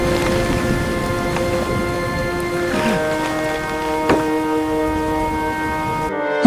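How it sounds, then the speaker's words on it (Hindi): Steady heavy rain pours down with a constant hiss amid strong wind, accompanied by a droning tonal hum and a few sharp rumbles, ending abruptly. "बारिश बहुत तेज है और हवा भी बहुत खतरनाक चल रही है"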